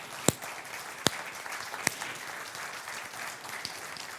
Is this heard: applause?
yes